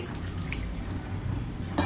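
Water is poured into a cooking pan, trickling and dripping steadily, a soft continuous splashing with a brief brighter splash at the very end.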